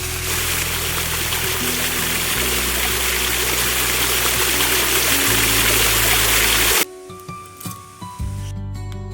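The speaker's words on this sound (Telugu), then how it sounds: "ముందుగా మనం కేజీ చికెన్ కడిగి పక్కకెట్టుకుందాం" Raw chicken, about a kilogram, rinsed under running water before making a chicken curry: a steady loud rush of tap water for several seconds, then a few brief splashes and drips as it stops.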